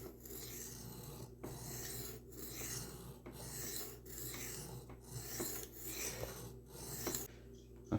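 Steel knife blade rasped steadily across diamond sharpening plates, a close, continuous scraping in repeated back-and-forth strokes with brief pauses between passes, no voices.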